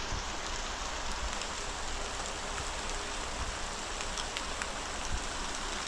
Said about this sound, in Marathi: पाऊस पडताना जरा बरं वाटतंय